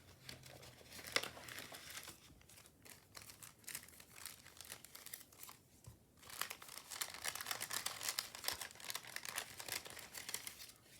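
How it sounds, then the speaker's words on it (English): Paper envelopes being rummaged through nearby, a steady quiet rustle of crinkling and shuffling paper with occasional sharper crackles, with no talk. "Hang on a moment, let me find that envelope."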